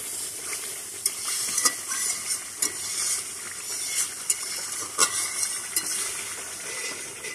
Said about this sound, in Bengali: যতক্ষণ মশলা থেকে কাঁচা ফ্লেভার বেরোবে ততক্ষণ আমি মশলাটা কষাতে থাকবো।